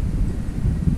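Wind blowing outdoors on an off-grid property, a loud, low, buffeting rush over the microphone with no other sounds.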